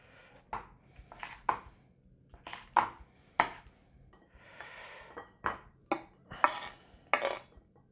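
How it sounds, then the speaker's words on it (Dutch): A knife chopping bell pepper (paprika) on a cutting board in a home kitchen, with about a dozen crisp, close strikes in an uneven rhythm and short pauses between them, and no voices. "Paprika snij ik ook vast."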